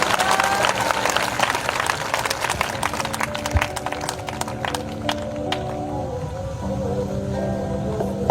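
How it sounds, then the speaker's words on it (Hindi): A congregation at a live prayer service applauds loudly, dense rapid clapping from many hands that gradually thins out while sustained organ or keyboard tones play underneath. "वचन के लिए एक जोरदार ताली बजाकर धन्यवाद दें।"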